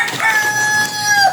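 A Rhode Island rooster on a small backyard chicken farm crows once in a long, loud, close call, heard alone.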